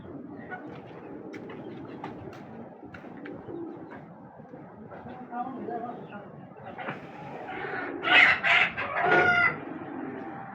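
Native chickens cluck and a rooster crows on a farm that also keeps pigeons, with bird calls scattered throughout and louder crowing bursts near the end while people talk nearby.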